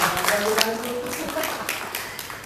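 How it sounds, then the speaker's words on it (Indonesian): A Sunday church congregation claps in a loose, uneven patter, mixed with some voices and tonal sounds, moderately loud and close. "Ya boleh tepuk tangan."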